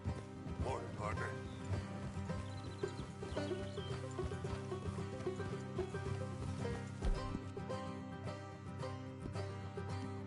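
Horses gallop in the video game Red Dead Redemption II, a steady rhythmic clip-clop of hooves under background music, with people talking at intervals.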